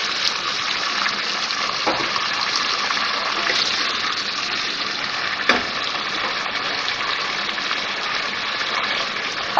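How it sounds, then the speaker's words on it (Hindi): A steady gush of water is poured into a pan of frying garlic and ginger while cooking aloo gosht, a continuous hissing rush that stays loud and even throughout, with no voices. "थोड़ा सा पानी डालूंगी, 2 टेबल स्पून।"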